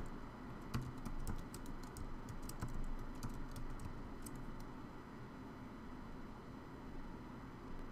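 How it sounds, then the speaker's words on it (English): Faint, irregular key clicks over a steady background hum, bunched in the first few seconds before fading into the drone. "I'm typing the same password here."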